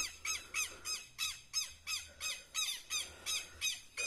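Repeated harsh, squawking alarm calls of a southern lapwing (teteu), about a dozen evenly spaced shrieks over a few seconds, fairly close and loud against quiet rural outdoor background.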